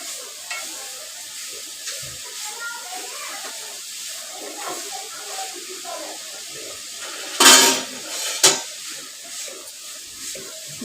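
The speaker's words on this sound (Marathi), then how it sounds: "मी सगळं ढवळून घेते." A grated coconut and sugar mixture for coconut barfi is stirred in a pan, soft bubbling and scraping with a few loud sharp clanks of the spoon against the pan near the end, and no one speaking.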